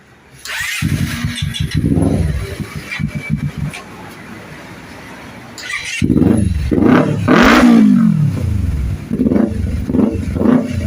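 A Japanese superbike with its original silencer cranks and catches, then idles roughly before being revved repeatedly in loud, rising bursts up close.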